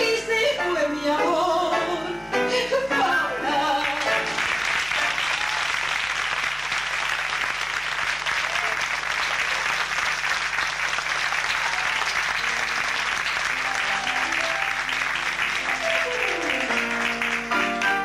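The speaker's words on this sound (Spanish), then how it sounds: "El aplauso para Alicia Nieves y Oscar de Lima." Audience applause after a tango performance in a concert hall, a dense, sustained wash of clapping lasting the whole stretch, with music fading out at the start and returning faintly near the end.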